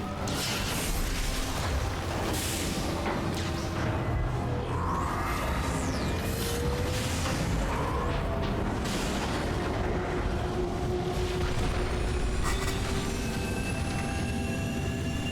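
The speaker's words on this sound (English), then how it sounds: "You can see my turrets getting wrecked in the background." Defensive turrets blown apart by explosions in StarCraft 2: Legacy of the Void, heard as a loud, continuous battle din with repeated booms, rumbling blasts and mechanical clatter throughout, and no voices.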